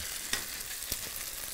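Potato pancakes (Kartoffelpuffer) fry in a pan, giving a steady close sizzle with a couple of brief sharper pops and no talking.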